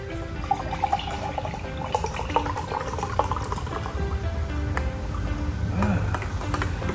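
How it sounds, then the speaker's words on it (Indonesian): Canned Starbucks Doubleshot espresso poured into a glass, a continuous liquid pour with light trickling and a few small pings against the glass, close and moderately loud. "Oke, aku tuangin kawan"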